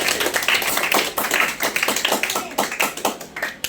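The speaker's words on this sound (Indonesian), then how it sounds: "Tepuk tangan dulu untuk teman-teman." Students in a classroom clap for their classmates, a burst of fairly close, uneven handclaps that rises and dips in rapid bunches and then thins toward the end, with a faint voice underneath.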